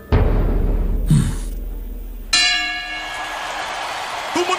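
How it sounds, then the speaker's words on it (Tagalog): A boxing match bell in an animated bout rings out loudly with a bright metallic clang and a long shimmering decay, following a brief earlier ding over background noise. "Tumunog na ang bell!"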